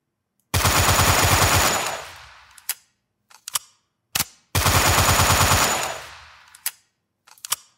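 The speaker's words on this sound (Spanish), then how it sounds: "Ahora incluso podríamos correr y disparar mientras corremos." Automatic gunfire from a Unity shooter game fired while the character runs, two loud sustained bursts of rapid shots, each about 1.5 seconds, followed by short clicks and clacks of weapon handling.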